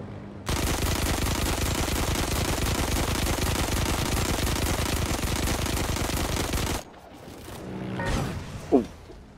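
Heroes & Generals video game gunfire: a long, loud, continuous burst of rapid machine-gun fire rattles for about six seconds, then cuts off abruptly, leaving quieter background rumble and a brief sharp noise.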